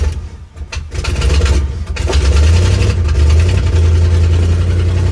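A 1966 Mercury that sat for 30 years, just given an ignition repair, cranks and catches after about a second, then settles into a loud, steady, low rumbling idle close by.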